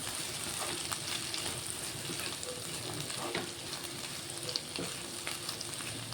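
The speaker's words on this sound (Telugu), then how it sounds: "ఒక్కసారి కలుపుకుందాం చూసారా ఎంత చక్కగా ఫ్రై అయిపోతుందో" Bitter gourd and tomato curry frying in a pan while being stirred, a steady close sizzle running throughout with occasional scrapes of the spoon against the pan, no talking.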